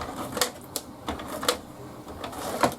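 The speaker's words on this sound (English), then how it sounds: "I'm going to use my advanced tape glider" An advanced tape glider run across cardstock for a folded card, giving a few short, close clicks and sticky tearing rasps spaced unevenly, with no talking.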